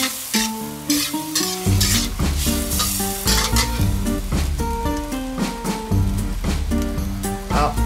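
Oil bubbling and sizzling in a pan makes a steady crackle partly masked by loud, prominent background music running throughout.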